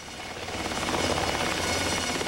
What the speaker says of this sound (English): All night long, a steady stream of helicopters arrived with patients from 5 New Orleans hospitals.